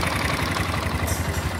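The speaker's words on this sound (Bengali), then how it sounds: "ইঞ্জিনে একটা শব্দ আছে" A 160 cc four-valve motorcycle engine idles steadily with a fast, even low-pitched thrum and a faint ticking from a recently replaced rocker, heard close and continuous with no talk.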